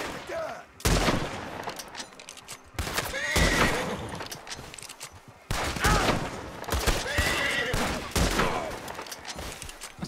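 Gunfire in the Red Dead Redemption 2 video game, several loud sharp bursts, some in rapid volleys, spaced a few seconds apart, with a horse neighing and hooves clip-clopping between the shots.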